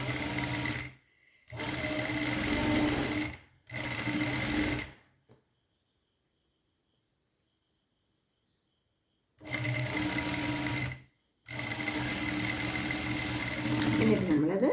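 A sewing machine stitches lining fabric in loud, steady whirring bursts, running about a second or two at a time with short pauses, then a long silent gap before two more runs.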